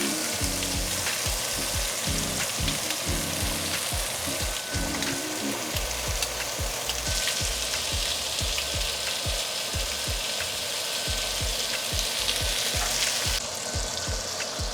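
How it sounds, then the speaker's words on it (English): Shrimp searing in butter in a skillet, a loud steady sizzle with dense crackling and spatter, along with tongs clicking and scraping against the pan throughout. "we're gonna place the shrimp in the skillet directly on the butterflied part for about 90 seconds"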